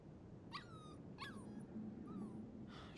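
A puppy whimpers in Life is Strange 2: several high, thin whining yips rise and fall in a broken series, close but soft over a steady low background hum, with no talking.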